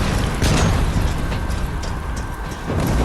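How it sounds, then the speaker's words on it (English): Loud, continuous explosions and booming blasts from the Terminator Resistance video game, with dense rumbling bursts filling the whole stretch and a few sharper peaks layered over the roar. "A lot of running and a lot of explosions."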